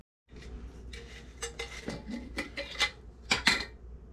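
A spoon scrapes and clinks against a bowl while mixing homemade chili seasoning, with a run of close, quick taps and rattles growing busier toward the end, no voices.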